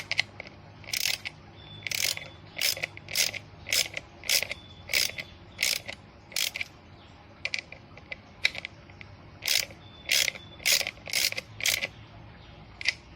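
Ratchet wrench tightening the nuts on the blower fan of an Isuzu D-Max car's air conditioning, heard as bursts of rapid close clicks with short pauses between strokes, with no talking.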